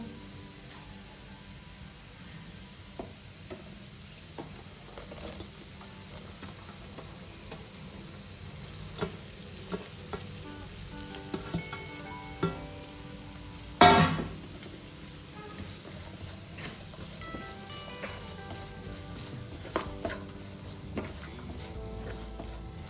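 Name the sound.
ridge gourd frying and being stirred in a pan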